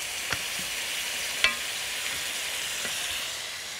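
Food stirred as it fries in a pan, a steady broadband sizzle with a few sharp utensil clinks against the pan.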